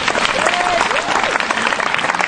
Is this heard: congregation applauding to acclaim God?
yes